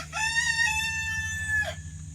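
A single rooster-like crow rings out loud and close, a drawn-out harmonic call lasting over a second, with steady low farmyard hum beneath it.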